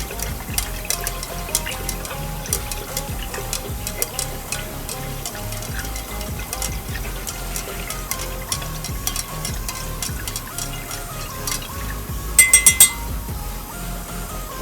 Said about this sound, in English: I'm just going to stir this up as we go each time I add an element to it